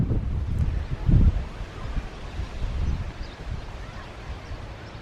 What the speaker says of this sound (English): when the wind blows, like it is now, you can see they jostle